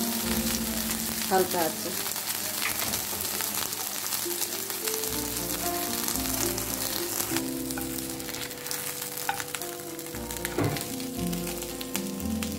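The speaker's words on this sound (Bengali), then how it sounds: "এটাকে আবার এদিকে আমি 2 মিনিট ফ্রাই করব" Fish fillet fries steadily in a pan, a continuous loud sizzle and crackle running throughout, with occasional clinks and a brief spoken remark.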